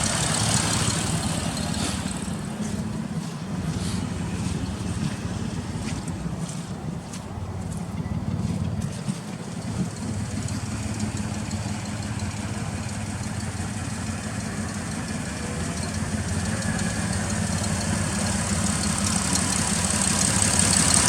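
A 2005 Toyota Highlander engine idles with a misfire, a low, steady rumble running throughout with a faint uneven knock and light background wind noise.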